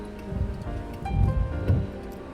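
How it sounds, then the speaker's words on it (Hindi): Heavy rain falls in a dense, continuous patter with soft rumbling bursts, heard close and fairly loud with no voices. "बहुत झमाझम बारिश चल रही है।"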